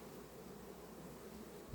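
A steady, dense buzz of honeybees fills the air, soft and continuous with no voices.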